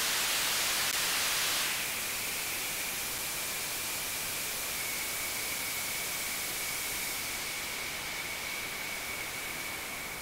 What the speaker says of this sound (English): that reminds me of the sound that when you're flying in a jet plane, you hear this type of thing.